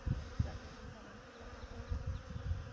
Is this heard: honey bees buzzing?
yes